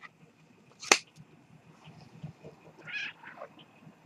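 A house cat meows once or twice at moderate distance indoors, with a sharp snap-like click just before and faint background noise around it.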